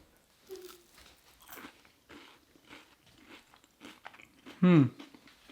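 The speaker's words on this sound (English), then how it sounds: "They're crunchy. You can hear the crunch." A single sharp, crunchy bite into a crisp jalebi near the end, preceded by quiet mouth sounds and soft background noise.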